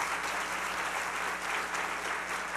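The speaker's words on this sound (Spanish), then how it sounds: "Y dale un aplauso al Señor" A church congregation claps steadily and loudly for a couple of seconds, a dense sustained patter of many hands.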